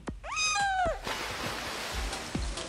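A cat in the game Toca Life City gives a clear, loud meow that rises then falls, followed by a few faint rustles and soft clicks.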